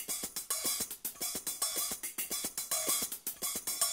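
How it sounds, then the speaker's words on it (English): Drums play inverted double strokes split between left hand and left foot, cymbal hits alternating with kick thumps in a quick, steady looping pattern. "I'm playing inverted doubles between my left hand and my left foot."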